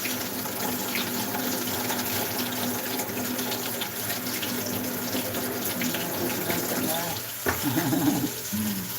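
Meat for a soup is washed under a running tap, a steady gush of water into a sink that continues throughout, with a brief clatter and a voice speaking near the end.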